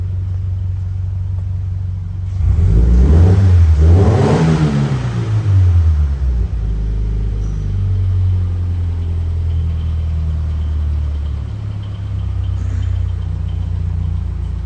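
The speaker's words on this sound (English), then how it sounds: "I'll try to get a little exhaust rev for you." 2013 Scion FR-S idling with the hood open, then a couple of quick exhaust revs that rise and fall sharply before settling back to a low, steady idle, close by.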